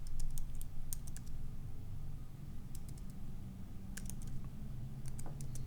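Steady keyboard typing as code is entered on a computer, with irregular clusters of key clicks repeating over a low background hum, close and moderately loud, with no one speaking.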